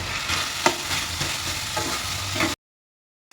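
Chicken frying and being stirred in a pan with chopped onion and green chili, a steady close sizzle with scraping stir strokes, stopping abruptly before the end.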